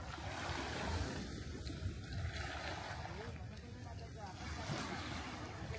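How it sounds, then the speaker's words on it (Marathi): Sea waves wash continuously on the Konkan coast beach at Devgad, with steady surf roar and wind buffeting the microphone, moderately loud throughout. "हा समुद्र किनारा बघा"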